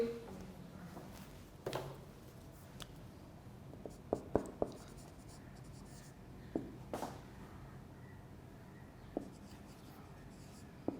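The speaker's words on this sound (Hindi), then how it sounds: "मैं लिख भी देता हूँ आपके लिए।" A word written by hand during an English lecture, heard as faint, scattered scratches and light taps from the writing tool, quiet and close.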